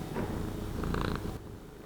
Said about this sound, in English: Do you need some kitty purrs?